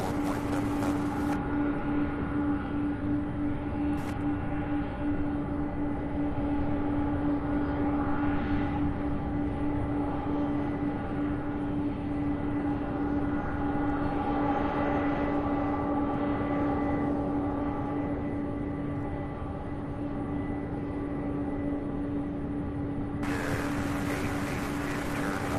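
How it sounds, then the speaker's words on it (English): A UPS MD-11 cargo jet taxis at Louisville's airport, its engines giving a steady, continuous jet whine and low rumble at a moderate distance, holding even throughout with no talk. "we also have now another MD-11 in taxi"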